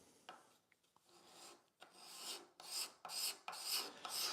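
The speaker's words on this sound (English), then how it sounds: "I've just been working this curve down with the rasp a little bit." A rasp works down the curve of a wooden leg for an entryway bench: a few light scrapes, then a run of loud, rhythmic rasping strokes close by.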